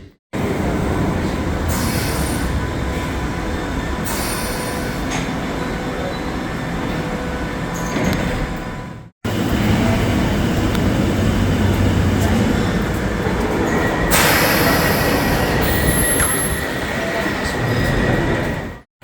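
London Underground Bakerloo line train running loud and close throughout, a continuous rumble with rattling carriage noise and bursts of high wheel squeal, broken by a brief cut near the middle.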